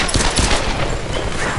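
Rapid bursts of gunfire from the Tomb Raider: Definitive Edition video game, a dense, loud volley of overlapping shots filling the whole moment with no voices.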